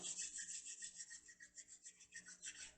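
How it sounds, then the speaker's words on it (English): Close, soft rubbing of two palms together during a yoga session, a quiet rhythmic swishing friction in quick back-and-forth strokes, with no voices. "Rub your hands together."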